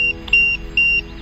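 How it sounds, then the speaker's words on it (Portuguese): A car alarm goes off beside an RC car session, giving repeated steady high electronic tones in pulses of roughly a quarter second, loud and clear over faint background noise. "Disparou o alarme"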